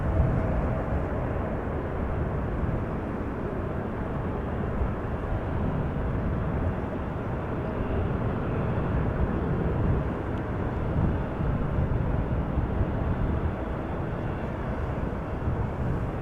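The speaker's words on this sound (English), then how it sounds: "KLM flight 877, 777-200ER, going to Mumbai." KLM Boeing 777-200ER airliner at Amsterdam Schiphol, a broad steady engine roar that stays loud and unbroken from start to finish, without any talk.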